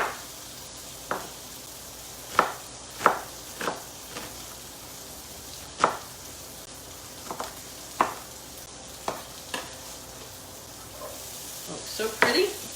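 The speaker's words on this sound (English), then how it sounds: "So I like to let my onions get a little cooked first." Shallot, Vidalia and red onions sizzle in a pan under a quiet, steady hiss, broken by scattered clicks and scrapes of stirring, with a faint voice in the background.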